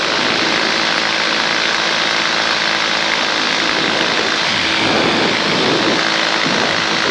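A paramotor's engine and propeller drone loud and steady in flight, a close, continuous buzzing roar with no pauses throughout.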